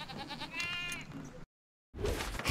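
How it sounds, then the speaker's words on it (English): Sheep bleats from the Sheep Creep villain in the Skylanders Trap Team video game, a couple of wavering game-character bleats over a busy game soundtrack, cut by a brief silence before game sounds resume. "Sheep Creep defeated."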